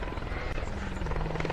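A helicopter flies over a hillclimb course, its steady throbbing rotor drone loud and continuous throughout.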